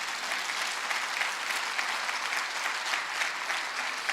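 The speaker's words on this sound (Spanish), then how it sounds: "dale un fuerte aplauso a Dios," A church congregation applauds God during a sermon, a dense, steady wash of many hands clapping that fills the whole moment without a break.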